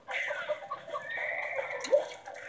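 A horse neighs in The Lego Movie Videogame, a drawn-out whinny rising and falling over about two seconds, clear and fairly loud with a brief higher squeal near the end and no talking.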